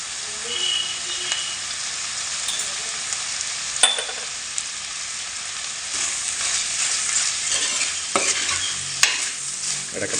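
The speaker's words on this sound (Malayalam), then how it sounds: "ഇടയ്ക്കിടയ്ക്ക് ഒന്ന് ഇളക്കി കൊടുക്കണം. സവോള നന്നായിട്ട് മൂത്ത് വരട്ടെ." Onions frying in a pan for a crab roast, a steady close sizzle with occasional scraping stirs and soft clicks of the spoon against the pan.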